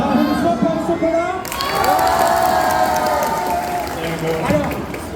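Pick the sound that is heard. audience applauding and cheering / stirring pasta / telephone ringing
audience applauding and cheering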